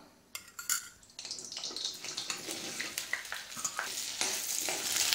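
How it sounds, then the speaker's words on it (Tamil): Okra sizzling and crackling as it sautés in a little hot oil over medium heat, with scraping stirs and clinks, the hissing growing steadier and louder toward the end. "இப்போ வெண்டைக்காய் வதக்கிறதுக்கு கொஞ்சமாக எண்ணெய் விட்டுக்கலாம்."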